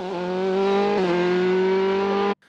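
A Dallara F308 Formula 3 race car at a hillclimb screams past at high revs, holding a sustained, harmonic-rich engine note for about two seconds before cutting off abruptly.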